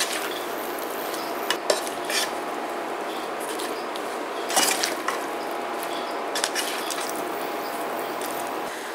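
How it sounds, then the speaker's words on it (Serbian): Pork ribs with garlic and paprika being stirred in a pot: a steady bed of sizzling and wet scraping, with occasional sharp clinks of a utensil against the pot. "sve ćemo to sada promešati"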